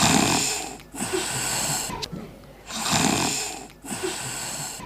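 A child imitates snoring, making loud rasping inhaled snores with breathy exhales in a slow repeating cycle of about four breaths, close and alone.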